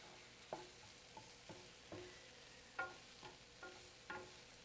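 Peppers, mushrooms and two jalapenos sizzle in a quick stir fry, with a soft steady fry and about eight stirring scrapes at regular intervals, close and fairly quiet.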